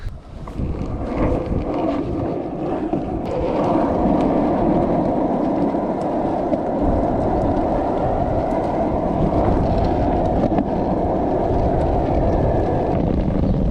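Strong wind buffets the microphone in a continuous low roar, steady and loud throughout with no voices.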